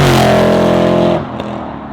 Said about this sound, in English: So you get a lot of intake noise